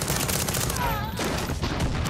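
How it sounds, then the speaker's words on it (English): Sustained gunfire with exploding bullets in the Far Cry 6 video game, a dense continuous roar of rapid shots and blasts with no pause across the short stretch. "I forget this has exploding bullets."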